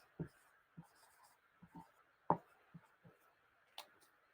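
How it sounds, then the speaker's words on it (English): Pen strokes on paper, a series of short separate scratches and taps spread out with pauses between them, close and fairly quiet, with no talking. "I'm going to write it down."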